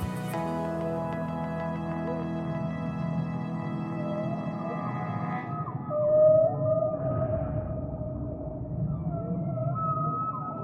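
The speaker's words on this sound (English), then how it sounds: "The sperm whale is the lord of the Azores." Sperm whale vocalization recorded in the sea off the Azores: long, rising and falling tonal moans with rich harmonics, swelling briefly louder midway and then thinning to a lone wavering tone, heard alone.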